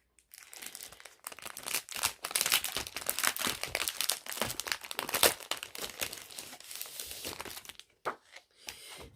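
Packaged sheets of 160-gram double-sided printed paper being opened, with steady close crinkling and tearing of the wrapping for about eight seconds, then a few sparse rustles at the end.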